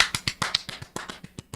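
A single person claps their hands in a quick, even run of about eleven sharp claps, close and dry, imitating the canned audience applause of 1950s or 1960s television.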